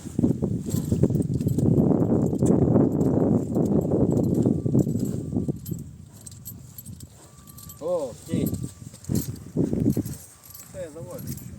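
A stallion's hooves clop on hard ground in a busy, irregular stream of steps, near and fairly loud at first, then thinning out while people talk over it.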